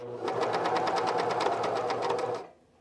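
Cover stitch machine with a binding attachment running steadily for about two and a half seconds, a fast even whirring hum with rapid rhythmic needle ticks, close and loud, stopping abruptly near the end; it is skipping stitches badly.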